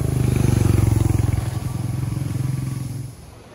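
A Royal Enfield Meteor 350 motorcycle engine idles close by with a steady, deep, rhythmic thumping that eases off slightly near the end.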